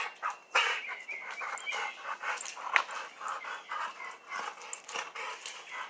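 A bulldog pants close by in quick, rhythmic breaths with light sniffs, steady throughout and with no voices.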